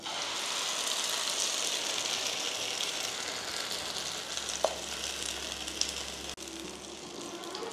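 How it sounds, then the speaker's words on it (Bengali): Mashed green peas frying in hot mustard oil as a kochuri filling give off a steady, dense sizzle with a few small pops, continuing evenly at close range. "তেলটা গরম হয়ে গেছে একদম। এরপর মটরশুঁটিটা দিয়ে দেবো বাটাটা।"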